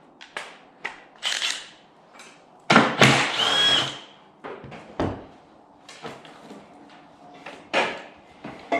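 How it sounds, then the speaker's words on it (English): Hole drilled through the turbo pedestal for a 50mm wastegate on a turbocharged Corvette. Short bursts of a power drill sound close by, separated by pauses and clanks of handling. "drill a hole in the pedestal"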